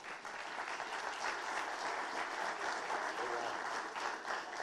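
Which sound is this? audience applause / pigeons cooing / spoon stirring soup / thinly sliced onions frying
audience applause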